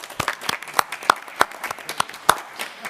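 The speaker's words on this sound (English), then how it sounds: "Can we give him a round of applause?" A small audience at a joint city council gathering gives scattered applause for a council member, with a few distinct, uneven hand claps rather than a full ovation.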